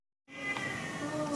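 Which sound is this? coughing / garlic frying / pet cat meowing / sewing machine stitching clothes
pet cat meowing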